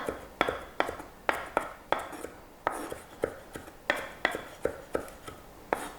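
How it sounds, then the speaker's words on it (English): A knife chops cilantro on a cutting board in a steady run of sharp, close, evenly spaced knocks, with no talking. "we're gonna cut up some cilantro and put that in there as well"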